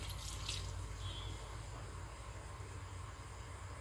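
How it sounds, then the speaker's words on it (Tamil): Water pouring into a wet grinder of soaked idli rice, a steady soft splashing wash in a kitchen, fairly faint and continuous with no talking. "தேவையான அளவு தண்ணி சேர்த்துக்கலாம்."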